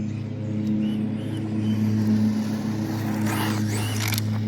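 A Traxxas Bandit VXL 3S 1/10 scale RC car drives on its first run, its electric motor giving a steady buzzing whine with a brief louder revving burst near the end, heard close and without talk.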